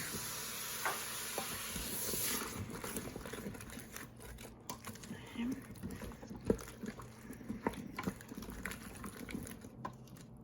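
Coconut milk poured into a pressure-cooker pot of vegetarian chickpea curry, a soft wet sizzle and stirring rumble running steadily throughout, with scattered clinks and a voice talking at times over it.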